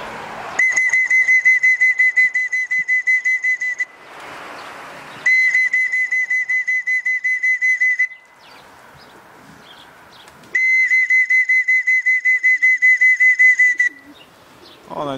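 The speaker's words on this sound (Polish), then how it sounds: "Teraz gwizdek wezmę, gdzieś go tutaj miałem" A pigeon fancier's whistle, used to call racing pigeons back to the loft, is blown in three long, loud, rapidly trilling blasts with short pauses between them, close to the listener.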